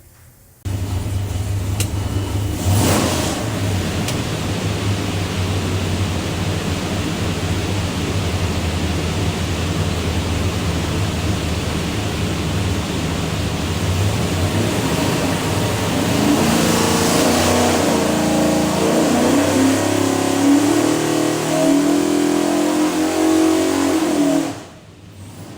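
Ford 427 Windsor V8 with Pro Flo 4 EFI on a dyno, built for a 1971 Ford F100: loud sustained engine roar for about 24 seconds, climbing in pitch as it pulls through the run before cutting off abruptly.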